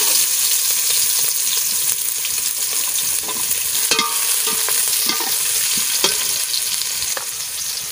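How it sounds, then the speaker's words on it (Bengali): Chopped onions fry in a pan with a steady, close crackling sizzle, and several louder scrapes from stirring land through the second half. "কুচনে পেঁয়াজ দিয়ে দিচ্ছি।"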